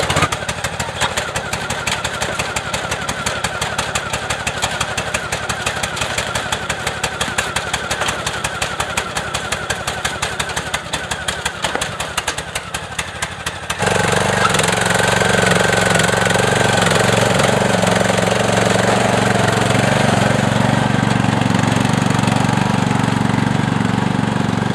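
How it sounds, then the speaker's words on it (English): Riding lawn mower engines run steadily at a lawnmower race, a rough continuous motor drone with rapid firing pulses that shifts to a louder, fuller roar partway through, close to the microphone. "So we got the Lawnmower Races here, as you can see behind me."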